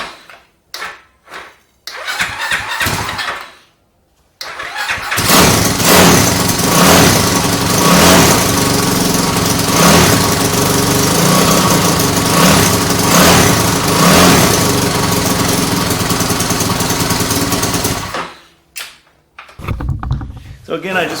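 A Honda CT70 clone motorcycle engine with an upgraded motor, started after a few short cranking bursts, then running loud and steady close by at idle with mild revving for about fourteen seconds before cutting off.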